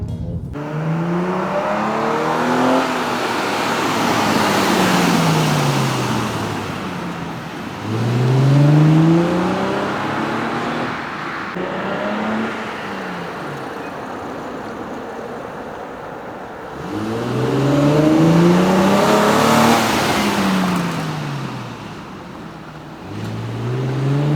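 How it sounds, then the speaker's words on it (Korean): A Nissan Skyline V35 naturally aspirated VQ V6 engine with a throaty Fujitsubo tuned exhaust revs up repeatedly, rising and falling in pitch as it builds, loud and close with three strong surges. "앞에 올 때는 그 VQ 특유의 그 옹 하는 엔진음이 있고"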